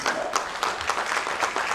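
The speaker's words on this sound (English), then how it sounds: "Ladies and gentlemen, please, a big round of applause." Audience applause at the BBSR Think literature festival 2014, a dense wash of many hands clapping steadily at moderate volume throughout, with no one speaking over it.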